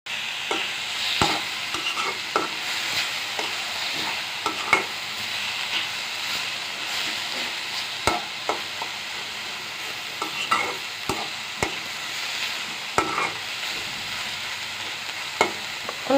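Amaranth greens (data shak) stir-fry in a pan with a steady sizzle and hiss, while a utensil scrapes and taps the pan every second or so, close and continuous.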